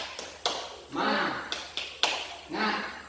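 A teacher in a classroom demonstrates a rhythmic clapping cheer, sharp claps in a short pattern alternating with his spoken chant, close and clear.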